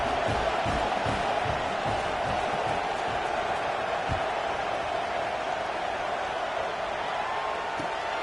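Stadium crowd ambience from College Football 26 during a kickoff after a score, a steady, dense roar of distant fans that stays even and subdued throughout, with no clear cheering swells.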